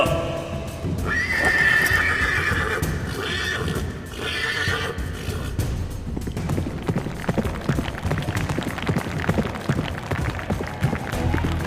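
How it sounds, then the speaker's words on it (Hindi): A horse neighs loudly and then gallops with rapid clip-clop hoofbeats, while crowd noise and talk sit underneath. "देखो तो श्यामदा के इशारे पर घोड़ा कैसा दौड़ा जा रहा है।"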